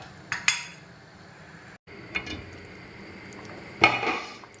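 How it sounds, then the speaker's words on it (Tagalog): Fish sinigang soup with tamarind being slowly stirred in a pot, giving a few soft scrapes and light clinks of a utensil against the pot over a low background hum, with no talking. "Dahan-dahan lang sa paghalo."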